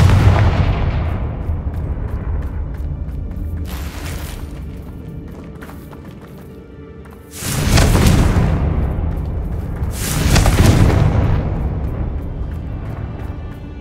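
Loud booming blasts from a Confringo spell in Hogwarts Legacy as a bridge is blown apart, two big explosions about three seconds apart with a rumbling tail, over continuous low game ambience.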